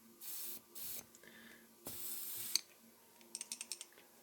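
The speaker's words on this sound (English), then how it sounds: "this is cleaning spray to clean off a bit the contact cleaner" Bursts of contact cleaner from an aerosol can hiss out in several separate sprays, loud and close, with some clicking and handling noise toward the end.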